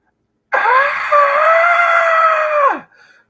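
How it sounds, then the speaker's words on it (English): A man screams in horror as an audiobook sound effect, one loud sustained cry of about two seconds, held steady before breaking off, followed by a faint short tail. "screamed in horror, bracing himself for impact"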